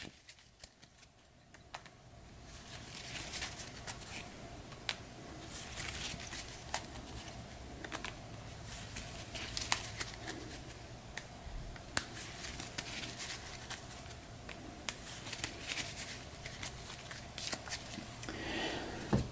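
Cards for the Cartographers board game shuffled by hand, a continuous soft riffling and patter with repeated sharp snaps and taps, close and quiet, with no talk.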